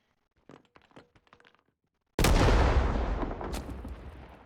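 A loud, close sniper gunshot in the Vietnam War video game Rising Storm 2: Vietnam, a sharp blast with a long rolling decay, coming after a stretch of faint crackling noise.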